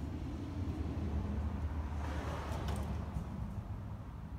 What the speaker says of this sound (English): you're gonna hear cars coming by.